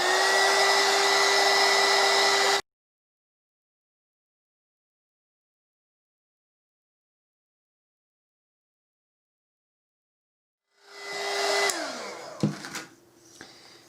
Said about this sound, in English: Turn our heat gun on.